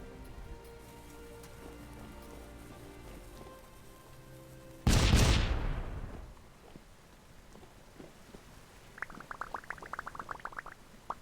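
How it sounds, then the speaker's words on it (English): Explosions from bombs going off in the mining game Vintage Story, a single loud burst that rumbles and fades over a couple of seconds, followed later by a quick patter of small debris-like clicks. "Time to do a double bomb."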